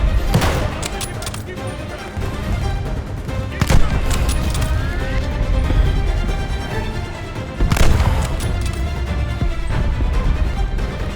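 Video-game gunfire in Call of Duty: Vanguard cracks out in bursts and single shots amid a dense, continuous battle din, loud and close, with sharp volleys near the start, middle and end.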